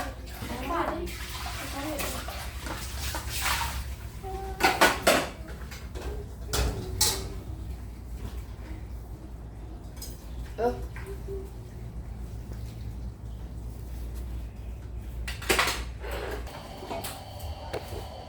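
A mother and her children wash dishes by hand at home, with water running and splashing into a basin and intermittent clinks and knocks of dishes, while a voice and other talk carry on throughout.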